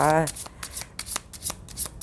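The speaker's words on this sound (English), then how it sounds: "Just shuffling up the deck." A deck of tarot cards is shuffled close up in quick rustling riffles, with a brief voice at the very start.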